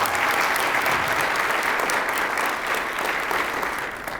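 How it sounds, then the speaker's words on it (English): Conference audience at a Kurdish professionals event breaks into sustained, dense applause, loud and even from start to finish, tapering slightly near the end. "Please give her a round of applause."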